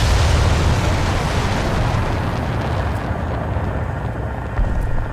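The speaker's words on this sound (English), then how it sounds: "So I'm hearing a helicopter close." A loud, close helicopter roar in War Thunder, a dense rumbling wash of rotor noise that slowly fades slightly, with a few faint pops.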